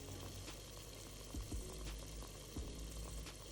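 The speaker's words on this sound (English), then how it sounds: "Add the donuts to the hot oil." Donuts frying in hot oil, a steady faint bubbling sizzle with a few soft low knocks, heard alone.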